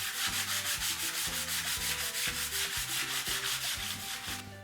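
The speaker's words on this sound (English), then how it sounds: "Most important thing now is to give the whole board a good old-fashioned sanding." A wooden board is sanded in a steady back-and-forth rhythm of rasping strokes, loud and close, with no voices.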